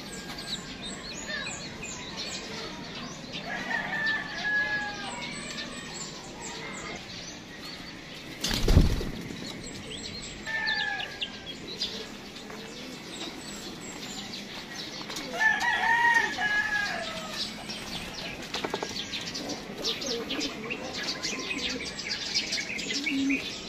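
Hens and a rooster from gamefowl raised in Batangas crow and cluck intermittently over steady ambient chirping, with a sharp thump and wing flaps midway and several crows at moderate distance.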